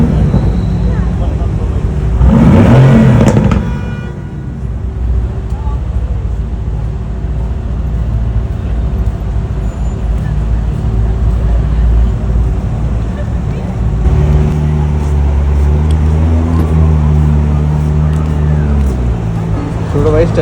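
A Ferrari engine on a Dubai street at Jumeirah, a loud burst of revving near the start, then a low engine drone and rising harmonic revs later, with people talking over it throughout.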